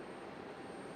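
Southwest Airlines jet airliner landing on runway 5 right at Raleigh-Durham International Airport, a steady broadband engine roar holding at even loudness throughout.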